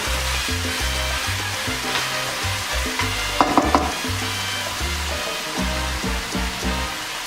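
Pork and garlic browning in a pan for pork adobo give off a loud, continuous close-up sizzle and crackle, with a brief cluster of spoon clatter partway through and a steady low hum underneath.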